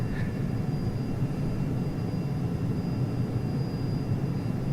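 Steady, dense roar of a Falcon 50EX jet in the X-Plane flight simulator, a continuous broadband engine and airflow drone heard alone from inside the aircraft.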